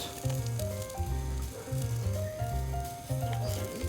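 Zucchini dressed in olive oil, pepper and salt sizzles steadily on a hot barbecue grill, a dense continuous crackle heard up close with no voices over it.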